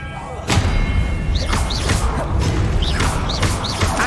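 Spell-casting effects in the wizarding game Hogwarts Legacy: a loud whooshing blast followed by a series of thumping impacts and rising magical chirps, with dense battle noise throughout.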